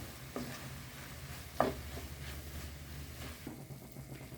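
Stuffing mixed with olives and optional harissa in a pan, faint soft stirring and scraping with a few sharper spoon taps over a low background hum, no voices.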